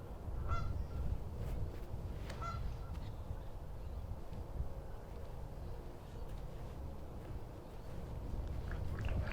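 Canada goose honking at a disc golf course after being struck by a disc, several harsh honks standing out over steady outdoor background noise.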